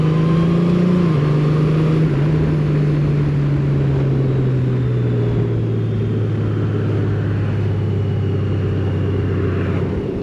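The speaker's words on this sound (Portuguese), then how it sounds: "ouvir o barulho da moto a puxar" A motorcycle engine pulls under load, a loud, continuous close drone whose pitch sags slowly over about ten seconds.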